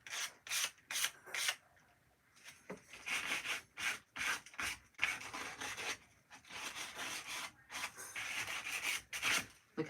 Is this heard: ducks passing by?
no